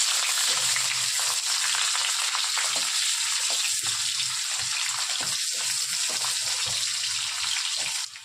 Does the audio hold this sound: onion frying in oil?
yes